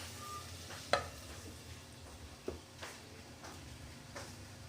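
Potato, carrot and pea curry sautéing in a pan, a faint steady sizzle with a few soft stirring knocks of a spoon against the pan, quiet and close.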